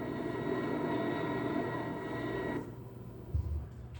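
An aircraft descending into a canyon after a long desert flight, its engine a steady loud drone that cuts off abruptly, followed by a brief low thump.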